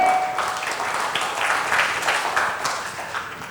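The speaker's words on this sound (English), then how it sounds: "A big round of applause for all of you." A conference audience applauds in a large room, dense clapping from many hands sustained for a few seconds and tapering slightly at the end.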